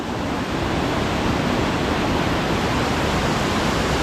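Datanla waterfall in Dalat roars with a powerful, broad rush of water, loud, dense and steady throughout, close by with no voices.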